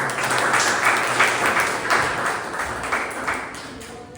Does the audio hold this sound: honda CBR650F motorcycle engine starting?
no